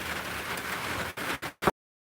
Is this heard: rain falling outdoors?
yes